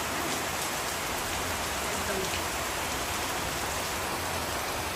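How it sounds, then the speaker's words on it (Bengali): Heavy rain pours steadily outside as an even, unbroken hiss that holds at the same level from start to finish, with no voices. "বাইরে দারুণ বৃষ্টি চলছে, দারুণ"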